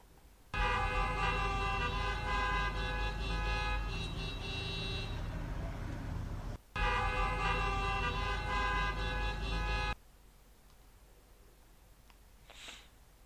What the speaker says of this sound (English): people sitting in their cars on the periphery lay on their horns